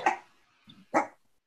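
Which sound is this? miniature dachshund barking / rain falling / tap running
miniature dachshund barking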